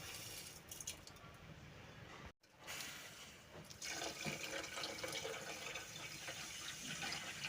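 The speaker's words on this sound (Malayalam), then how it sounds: "എന്നിട്ട് ഇതിൽ 1 കപ്പ് വെള്ളം ഒഴിക്കുക" A cup of water poured into a pan holding a cup of sugar to make syrup for gulab jamun, giving a steady close splashing rush that briefly stops and then resumes louder and continuous.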